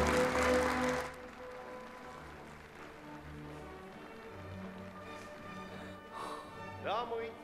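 An audience greets a contestant walking onto a stage with a short, loud burst of applause that stops after about a second, leaving quieter room sounds and faint scattered noises.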